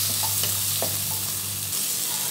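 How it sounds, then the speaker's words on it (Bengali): Chili powder being stirred into a frying paneer butter masala base in a pan, with a steady close sizzle and soft scraping stir strokes throughout. "এটা এবার আমি ভালো করে নেড়ে নেব।"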